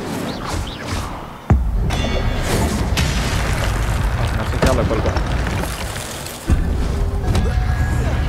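Combat in Hogwarts Legacy as the Incendio fire spell is cast: two sudden booming bursts of flame and impact, one early and one late, sit over a continuous loud roar of game effects.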